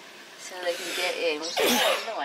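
One short, sharp sneeze bursts out partway through a person's ongoing speech, close and fairly loud, with talking continuing around it.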